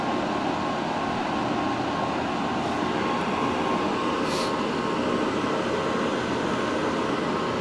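Steady, close hiss of an aerosol spray can applying primer paint, unbroken for several seconds without any talking.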